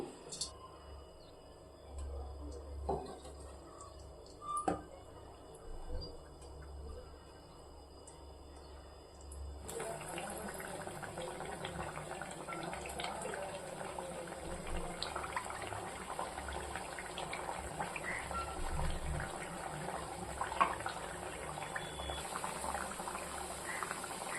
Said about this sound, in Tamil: தட்டைகள் எல்லாத்தையும் எண்ணெயில் பொறிச்சு எடுத்துருவோம்